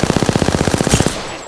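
A rapid burst of automatic gunfire rattles loudly from a PS4 shooter game, about a dozen fast evenly spaced shots in roughly a second before trailing off.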